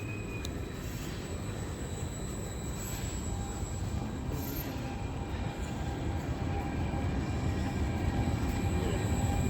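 A train rumbles steadily with dense low-frequency noise throughout, a faint high metallic squeal of wheels riding above it.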